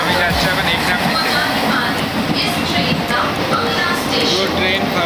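A nearly empty passenger train rolls along on the way to Durgapur, its loud steady rumble and rattling carriage noise filling the space close around, with faint voices underneath.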